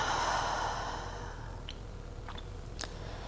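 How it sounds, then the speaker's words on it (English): A long, deep exhale in a yoga breathing practice, a broad breathy rush that is strongest at the start and slowly fades. A few faint soft clicks follow in a quiet room. "Exhale, let it all out."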